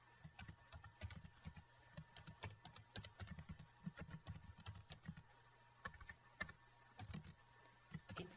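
Code is typed on a computer keyboard in rapid, uneven bursts of close, crisp key clicks with short pauses between them, quiet and without any talking.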